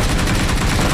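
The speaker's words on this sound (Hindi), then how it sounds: "जो गोली चली बता नहीं सकता।" Gunfire in the mobile battle game BGMI, a loud continuous burst of rapid shots that fills the whole moment with no pause and no speech.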